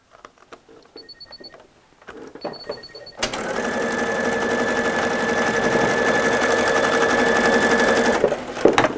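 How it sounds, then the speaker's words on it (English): A sewing machine stitches across the top of a fabric strip, starting abruptly after a few quiet handling clicks and beeps, then running in a steady, close, loud mechanical whir for about five seconds before stopping. "and we're going to sew across the top."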